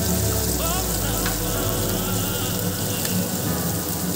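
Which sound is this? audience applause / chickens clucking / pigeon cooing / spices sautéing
spices sautéing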